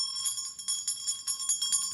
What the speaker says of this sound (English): We ring the bells.